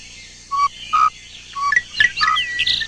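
Tropical birds, among them parrots such as a scarlet macaw, call close by with clear whistled notes followed by a quicker burst of overlapping chirps and tweets.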